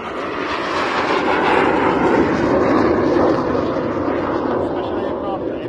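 A Hawker Hunter jet flies a solo display, giving a loud, sustained broadband roar that swells and holds across the clip, with a voice talking underneath.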